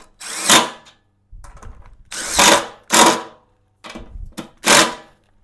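A 10 mm tool tightens the gas tank bolts on a Venom Ghost Chopper 250 motorcycle, giving five short, close whirring bursts with quiet gaps between them and no talking.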